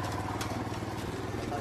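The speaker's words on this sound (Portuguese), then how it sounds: "Olha a moto." A motorcycle engine rumbles steadily nearby, a low continuous idle-like drone with faint background voices.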